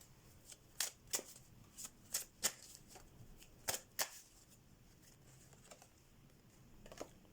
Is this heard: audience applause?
no